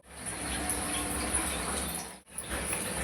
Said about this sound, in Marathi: मी यामध्ये पाणी घालते